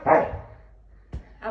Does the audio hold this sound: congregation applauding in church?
no